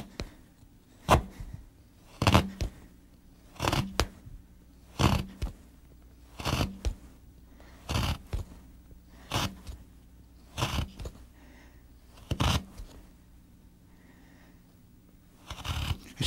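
A hand chisel chops out the waste between dovetails in wood, a series of sharp, close knocks and cuts spaced roughly a second apart, with quiet pauses between strikes and no talking.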